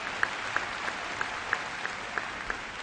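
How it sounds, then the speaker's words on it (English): Audience applause at the 2012 Joplin High School graduation ceremony, a steady wash of clapping from a large crowd in a hall, even and sustained with scattered sharper claps. "That's worth an applause."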